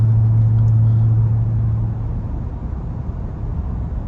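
A 2024 Ford F-150 Raptor R heads toward the highway, with a low, steady cabin rumble of engine and road noise and a humming drone that fades after the first couple of seconds.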